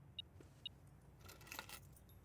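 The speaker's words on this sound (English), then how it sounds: "We've got the car keys." Car keys are picked up in the video game Blue Prince, giving two short bright metallic jingles close together, then a longer cluster of jangling a moment later, all clear and close with no talk.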